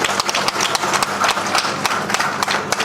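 An audience gives a burst of applause to welcome Chief Minister Rekha Gupta at a public event in Delhi, dense steady clapping filling the whole stretch at close range.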